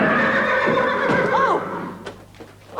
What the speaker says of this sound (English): that's all I need. A sick horse.